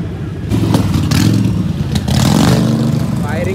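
A new motorcycle's engine fires and revs up close and loud, with a steady mid-pitched throb that swells twice, while people talk over it.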